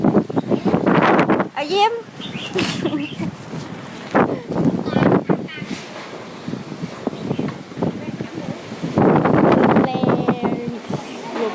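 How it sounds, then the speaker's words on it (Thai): Strong Storm Pabuk wind gusting and rattling loose metal roof sheets, harsh roaring bursts with buffeting microphone noise, while people talk and call out over it. "ลมแรงมากสังกะสีพัด"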